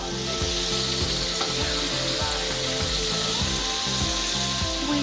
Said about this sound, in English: The oil's nice and hot. And drop our chicken in.